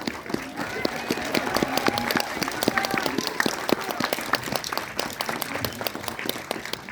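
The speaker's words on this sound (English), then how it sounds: "Пожалуйста, продолжайте хлопать." A crowd of audience members in St. Petersburg applauds Allu Arjun at a film presentation, a dense, steady burst of clapping lasting throughout with sharp individual claps standing out near and far.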